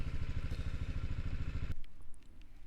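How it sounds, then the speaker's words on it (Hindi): BMW G310GS motorcycle at a hostel parking spot: the single-cylinder engine idles with a close, steady rhythmic thump, then cuts off abruptly, leaving faint ambient clicks and quiet surroundings. "बाइक हमने अभी इधर पार्क किया है"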